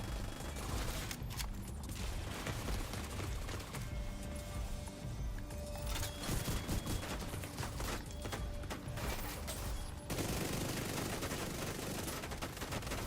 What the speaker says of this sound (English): The ACS shotgun can sometimes be good with these.